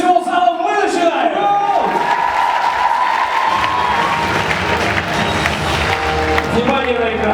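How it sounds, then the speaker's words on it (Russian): The whole hall of a student song contest final breaks into loud applause and cheering, a dense continuous roar of clapping and crowd noise with music playing underneath. "под аплодисменты всего зала мы начинаем"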